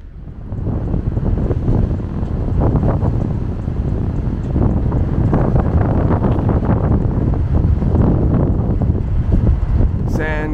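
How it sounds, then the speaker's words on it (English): Ocean waves at San Clemente beach in California roll in as a loud, continuous low roar and wash, heavily mixed with wind buffeting the microphone, sustained from start to finish. "Sound of the waves."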